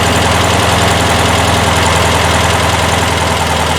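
Close and loud, a Porsche 912 flat engine idles on freshly adjusted Dellorto DRLA carburetors, running fairly smooth. The throbbing drone holds steady throughout, without talk.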